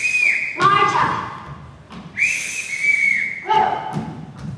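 Two long shrill whistle calls summoning children during a high school operetta stage performance, each ending with a quick falling trill, separated by a short pause and followed by a thud, heard clearly and fairly close.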